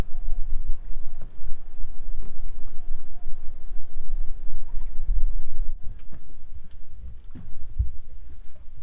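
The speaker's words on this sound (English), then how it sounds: "And it's really windy now." Strong gale wind buffets an anchored catamaran in a shallow bay, a loud steady rumbling roar with gusty swells, occasional sharp knocks and creaks from the boat, and no talking.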